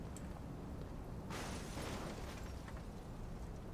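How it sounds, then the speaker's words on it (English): A sudden crashing burst of a car crash in a video game erupts partway through, broadband and noisy, then trails off into a rumbling ambient background. "I heard a car crash over here."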